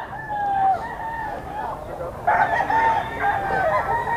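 A rooster crows twice at the Grotto pet market, where chickens are sold. The calls are loud and close, with a short gap between them and faint background chatter.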